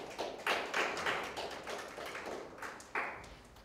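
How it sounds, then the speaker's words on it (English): Audience applause for a presenter at a space science symposium, a spread of many hands clapping at moderate distance, with a few sharper bursts standing out, no talk over it. "let's give her a round of applause."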